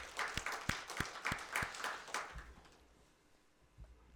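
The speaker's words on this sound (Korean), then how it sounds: "박수로 격려하겠습니다" Church congregation applauding during a Sunday worship service, a burst of clapping that is moderately loud at first, then thins out and fades within a few seconds into near quiet.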